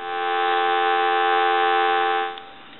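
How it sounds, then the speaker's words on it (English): A landline telephone dial tone hums steadily and loudly for over two seconds, then cuts off abruptly into a faint low hiss. The handset is an M&M's animated novelty phone by Polyconcept, under repair. "I want to go ahead and give you some dial tone."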